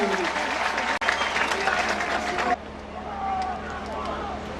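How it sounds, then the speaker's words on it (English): A festival audience at the Thado Cultural Festival 2016 applauds finalists with dense clapping that stops abruptly halfway, leaving quieter room noise and faint voices. "A big round of applause once again, please"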